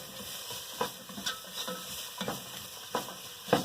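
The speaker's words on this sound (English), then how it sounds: "We're just gonna saute these veggies a little bit, soften them up" Chopped vegetables sautéing in olive oil in a soup pot, a soft, steady sizzle broken by repeated stirring scrapes and utensil taps, close but fairly quiet, with no talking.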